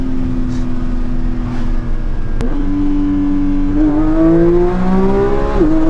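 A BMW G87 M2 accelerates hard in first gear, its loud, close engine note climbing steadily in pitch. A brief break halfway through is followed by the revs rising again even more strongly.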